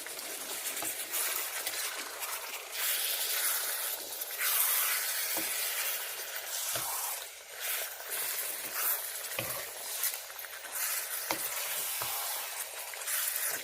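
Chicken korma sizzles steadily in a hot pan, a continuous bright hissing crackle with occasional soft clicks of stirring, fairly quiet and close, with no one speaking.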